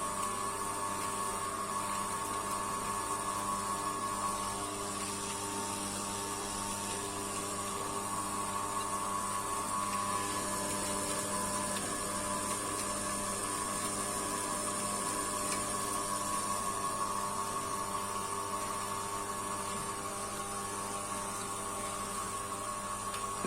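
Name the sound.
small stainless steel oil press running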